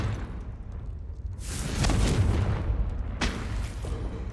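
Confringo fire spell from Hogwarts Legacy bursting in two blasts: a broad whooshing explosion near the middle, then a second, shorter burst, both loud and close over a low rumbling background.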